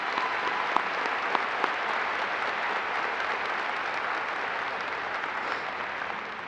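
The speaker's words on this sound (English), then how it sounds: "Let's give a round of applause for all of you." Sustained applause from a large audience at a Logan County High School ceremony, a steady dense wash of clapping at even loudness throughout, with a few sharper individual claps standing out.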